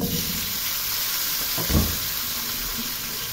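Chicken feet fry in hot oil with a continuous loud sizzle and crackle close by, with a brief pop in the middle.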